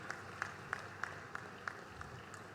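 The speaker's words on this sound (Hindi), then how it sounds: "तालियों के साथ स्वागत है माननीय मुख्यमंत्री डॉक्टर मोहन यादव जी का।" Faint, even applause welcomes Chief Minister Dr Mohan Yadav at a World Sickle Cell Day event in Omkareshwar, with light claps landing in a steady rhythm about three times a second from a distant audience.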